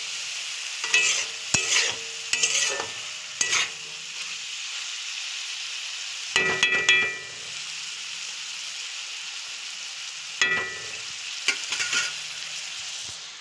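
A spoon or spatula scraping and stirring vegetable curry frying in a pan: bursts of clattery scraping strokes at irregular intervals over a soft, continuous sizzle.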